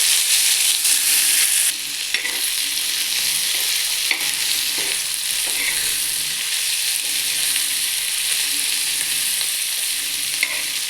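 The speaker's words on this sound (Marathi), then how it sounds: "चला आता आपण मस्त छानपैकी कांदा भाजून घेऊ" Onion frying in oil for a spicy patodi curry makes a loud, continuous hiss with scattered crackles and light stirring taps, steady for the whole stretch with no talk.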